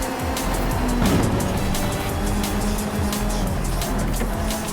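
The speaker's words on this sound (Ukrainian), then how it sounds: "чувак на парше в крос-кантрі ганяє" A Porsche driven cross-country in Forza Horizon 5 gives off a steady, loud engine drone with shifting pitch and rumbling terrain noise, running continuously.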